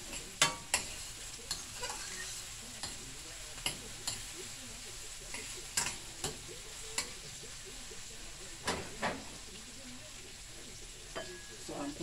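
Perch pieces for brown stew fish, already browned, fry in a pan with a steady broadband sizzle, broken by irregular sharp ticks and pops from spattering oil and utensil contact, moderately close.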